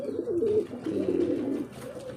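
Soft, throaty cooing of pigeons, low warbling calls repeating close by with little else around.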